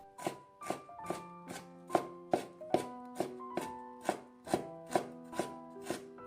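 A knife cuts fresh ginger into thin strips on a board, a steady rhythm of about fifteen crisp, evenly spaced chops, close and with no voices.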